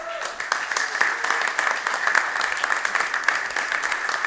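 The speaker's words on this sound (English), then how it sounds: "A round of applause for the acts this evening." Audience applause for the acts at a variety show, a dense, steady wash of many hands clapping together, fairly close and continuous throughout, with a voice faintly mixed in.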